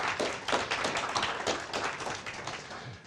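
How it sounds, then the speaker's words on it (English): An audience at a horse-industry presentation in Ukraine claps for the organizers, steady dense applause from a moderate-sized crowd in a room, without voices over it. "I'd like to applaud for them"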